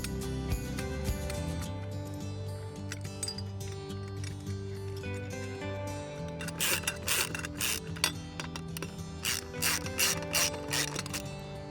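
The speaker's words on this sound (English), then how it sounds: "I'm going to put the 2 top bolts in and secure the bracket." Ratchet wrench tightening the bolts that hold a metal gate latch bracket, a steady run of close mechanical clicks that turns into louder, quicker ratcheting strokes toward the end.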